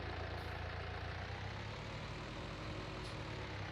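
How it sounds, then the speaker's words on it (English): A small Steyr tractor engine idling in Farming Simulator 19, a steady low rumbling drone that stays even and fairly quiet throughout with no talk. "And I'm already quite liking this little Steyr. It is a good little tractor,"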